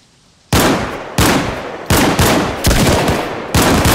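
Gunshots in the video game DayZ: about six loud, close, sharp reports at irregular intervals roughly half a second apart, each ringing out before the next, following a moment of near silence.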